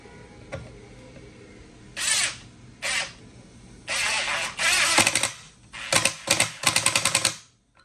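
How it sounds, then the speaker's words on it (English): A Ryobi 18V ONE+ HP brushless 1/4-inch impact driver on its lowest mode drives screws into a board in several loud, close bursts of rapid hammering rattle, the last runs breaking into distinct quick impacts. "testing out the Ryobi 18 volt 1 plus HP brushless 1/4 inch impact driver"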